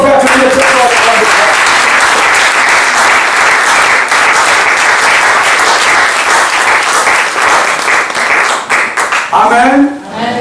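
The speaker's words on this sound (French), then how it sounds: "Est-ce qu'on peut acclamer très fort?" A church congregation applauds loudly in sustained, dense clapping that fills the whole stretch, with some voices mixed in and a brief thinning near the end.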